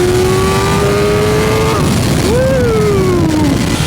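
A BMW M1000R motorcycle pulls hard in race mode. Its engine note climbs steadily, drops at a gear change, then climbs again, with loud wind rush heard from on board.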